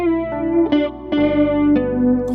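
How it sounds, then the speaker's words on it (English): A chorus-like guitar tone built from Auto-Tune tuned and untuned versions layered together plays sustained, shimmering notes with a few picked attacks, loud and alone. "we'll have a chorus guitar sound because we'll have a tuned version and untuned version."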